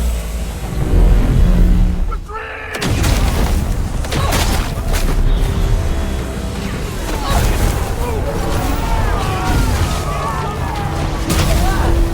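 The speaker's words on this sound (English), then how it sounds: "The machine hurls an explosive into a pit they reach." A hurled explosive detonates in a pit, heard as a deep rumbling boom followed by a sharp cut into sustained roaring debris and crackling noise that stays loud to the end, with some voice mixed in.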